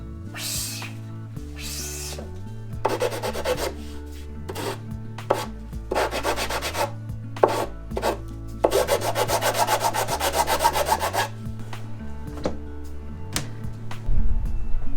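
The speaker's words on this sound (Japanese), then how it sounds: "材料は杉材ですけども正目なのでカンナ掛けは楽にできます。" A hand plane shaves straight-grained cedar board in a renovation workshop, with repeated loud, close rasping strokes of varying length over a steady low background hum.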